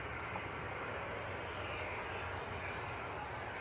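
An Embraer E190 jet at Leeds Bradford Airport produces a steady, moderately distant engine roar, a constant broadband rumble with no breaks over a few seconds.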